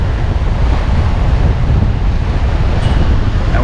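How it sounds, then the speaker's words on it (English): Steady, loud wind roaring across the mic aboard a sailboat under way at 7 knots, with rushing water and waves beneath, a continuous broadband wash with no voices. "We got some great wind this morning."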